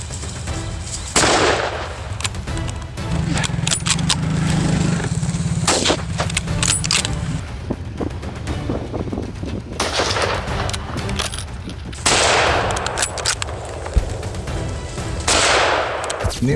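Gunshots ring out on a feral hog hunt, with several sharp loud cracks and bursts of fire scattered across the stretch amid outdoor noise, some shots coming close together.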